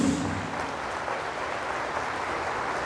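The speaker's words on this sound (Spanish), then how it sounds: "Fuertes aplausos al Señor Jesús." Sustained applause from a crowd at a Catholic religious service, a dense even patter of clapping that holds steady throughout at moderate volume.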